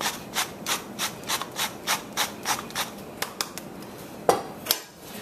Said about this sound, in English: we're going to dose him with that fresh ground black pepper